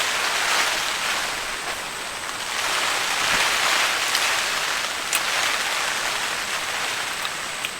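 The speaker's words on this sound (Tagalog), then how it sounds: "Kaya nga lang ngayon ay ulan na yung kapalit." Steady heavy rain falls at a mountain campsite during a tropical storm, a dense continuous hiss with scattered drops striking close by, no voices.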